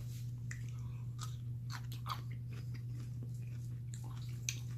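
Someone biting and chewing a Kool-Aid cherry pickle, with a series of wet, crunchy bites close up over a steady low electrical hum.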